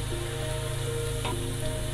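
Ginger and garlic browning in a pan for chicken korma, a steady close sizzle and crackle of frying oil running continuously with a faint stir midway and no talking.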